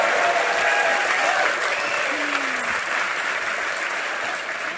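Audience applause fills a live X-Play show taping at PAX East 2012, a dense, steady roar of clapping from a large crowd that holds loud throughout and eases slightly at the end.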